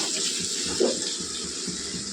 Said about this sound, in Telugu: ఇప్పుడు ఇలా ఉడికింది కదా మన ఇందులోకి నీళ్ళు వేసుకుందాం